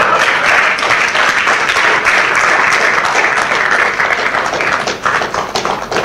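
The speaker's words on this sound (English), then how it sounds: "As you are clapping your hands" A TEDx talk audience on food security claps steadily, a loud, dense wash of applause lasting several seconds with only a slight dip near the end.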